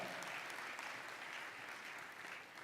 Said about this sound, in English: A round of applause for Ambassador Boaz Mbaya